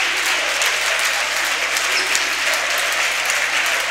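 Spectators applauding at a basketball game between Scauri and HSC Roma, a steady wash of clapping from the crowd in an indoor arena, sustained and even from start to finish.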